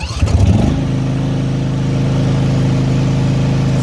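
An AS 940 RC remote-controlled machine with automatic choke starts at the push of a button, a brief cranking burst and then a steady, loud, close engine running at half revs.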